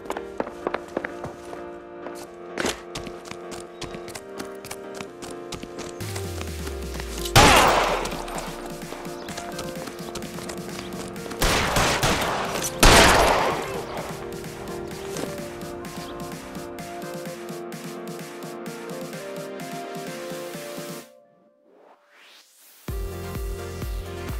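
Gunfire in the video game LA Noire, with a few loud gunshot blasts standing out against a background of game music and ambient effects.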